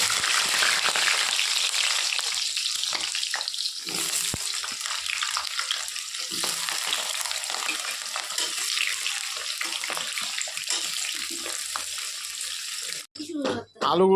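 Cut potatoes sizzling and crackling in hot oil in a home kitchen, a steady broadband frying hiss running throughout with brief stirring and clatter near the end; a voice talks quietly over it.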